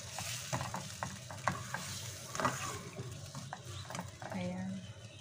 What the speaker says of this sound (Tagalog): Haluin lang natin siya ng konti guys at medyo pakuluin natin ng konti para maluto ng konti yung chicken